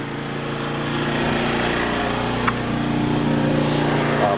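A Sportsman GEN3500I 3500-watt inverter generator runs in low output mode, a steady droning engine hum heard up close, constant and unbroken with a faint click partway through.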